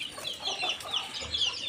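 Rooster clucking nearby in Lucknow, a string of short repeated clucks in an uneven rhythm over faint background noise.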